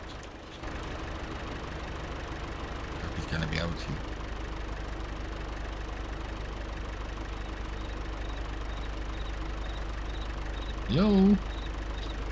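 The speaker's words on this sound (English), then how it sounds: "The tractor can take off on the hill." A tractor engine drones at a steady, even pitch throughout while climbing a hill in a farming video game, with someone talking briefly over it a couple of times.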